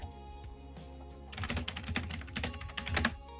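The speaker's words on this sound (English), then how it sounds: "Oh yeah, I'm typing fast." Fast typing on a computer keyboard produces a rapid, close clatter of key presses that grows busier partway through, over a quiet background hum.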